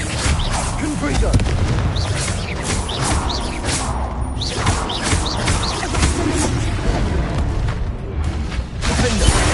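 Confrigo spell blasts burst out during a Hogwarts Legacy duel, repeated booming impacts amid a dense mix of other spell effects and combat noise throughout.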